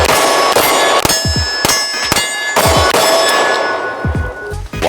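Bullets ring off an AR500 steel silhouette target in a series of sharp metallic clangs, each hit leaving a bright ringing tail, spaced roughly every half second to second over steady loud background noise, with distant gunshot thumps between them.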